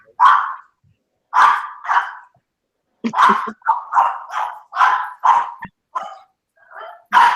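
A dog barks repeatedly in loud, close bursts, clustered in quick pairs and runs with short pauses between, some shorter yips near the end.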